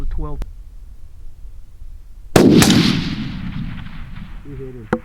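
A single sharp rifle shot cracks out during a coyote hunt, followed by a long rolling echo that fades over a few seconds, with brief voices heard before and after.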